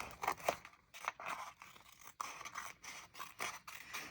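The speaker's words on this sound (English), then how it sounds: "I need to trim it. So we're gonna do that now. And just cut right along the edge." Scissors trim paper along the edge of a bullet journal page, making a quiet series of crisp, crunchy snips in an uneven rhythm with no talking.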